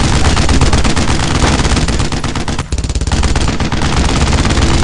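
Machine gun fire from the World War II shooter game Brothers in Arms: Road to Hill 30, a loud, dense, continuous rattle of rapid shots with one brief break midway before the sustained burst resumes.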